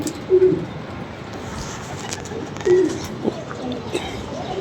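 Pigeons coo in two or three short, soft bursts against a steady outdoor hum, with no other prominent sounds.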